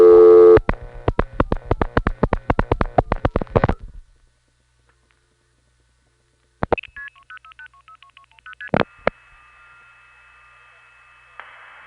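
A long-distance call is routed through an SP1 tandem into an old step-by-step tandem in Manitoba: a run of crisp, evenly spaced dial-pulse clicks, then silence, then bursts of multifrequency signalling tones and a steady tone at the end.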